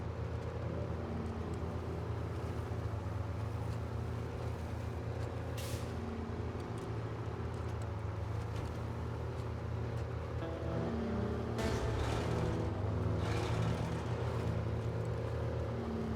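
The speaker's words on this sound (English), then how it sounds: "It's got a nice engine burble." A steady, low rumbling truck engine in the video game SnowRunner drones throughout, with a brief hiss and a few clunks and rattles breaking over the constant burble.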